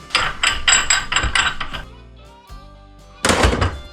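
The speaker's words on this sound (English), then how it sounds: "Bigger hammer." A hammer pounds on a Ski-Doo snowmobile part in a workshop, a rapid string of loud, close metallic blows, then a pause with a ringing tail, then another burst of hits.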